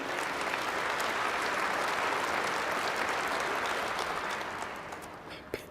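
Sustained audience applause in a large assembly hall during a Russian presidential address to the Federal Assembly, a dense steady wash of many hands that fades slightly toward the end, with no talk over it.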